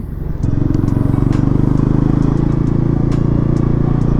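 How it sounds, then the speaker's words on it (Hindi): A Bajaj Pulsar NS400Z motorcycle accelerates in fourth gear around 3000 to 4000 RPM, a loud, steady engine drone that swells slightly as revs climb, heard up close from the rider's position with no talk. "Let me accelerate little more."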